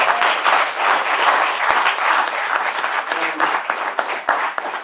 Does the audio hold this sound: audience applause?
yes